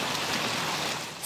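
Heavy rain falls steadily during severe flooding in a French village, a dense, loud, even hiss of drops striking surfaces, close and continuous with no voices.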